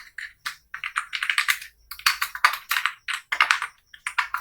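Fast typing on a computer keyboard, crisp close key clicks in irregular rapid bursts with short pauses between, no talking.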